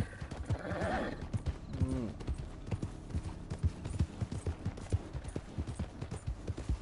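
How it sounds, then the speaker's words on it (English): A horse in the video game Red Dead Redemption 2 gives a whinnying neigh, then trots nearby with steady, rhythmic clip-clop hoofbeats that continue to the end. "നമ്മുടെ കുതിര ഒന്ന് വിളിച്ചു നോക്കാം."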